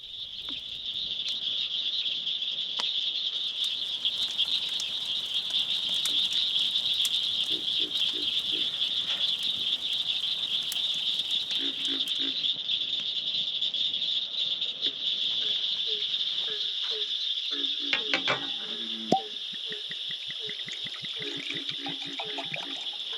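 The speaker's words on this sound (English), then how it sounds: "Just the sound of frogs and crickets." Frogs and crickets chorus at night in Apalachicola National Forest, Florida, with a loud, unbroken high insect trill and bursts of croaking and pulsing frog calls underneath, no talking.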